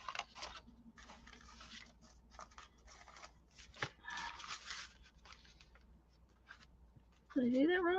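Scissors snipping paper for a mixed-media journal, a run of short, close crisp cuts and rustles with brief pauses, and a voice speaking briefly at the end.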